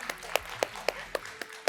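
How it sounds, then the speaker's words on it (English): A few people in a fireside-chat audience clap in a slow, evenly spaced rhythm, about seven sharp claps, fairly faint and sparse rather than a full round. "if you're applauding, applaud fully"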